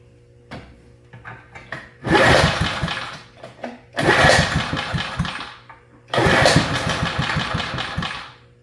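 A 1970 Toro Whirlwind lawn mower engine, a barn find idle for 30 years, cranks in three separate loud bursts of sputtering, coughing effort, each lasting about two seconds, with quiet gaps between them and no talking.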